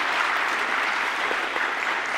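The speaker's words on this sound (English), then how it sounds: "That is something to clap for." Applause from a concert audience at the Detroit Film Theater after a sonata premiere, steady dense clapping filling the hall throughout, with no voices over it.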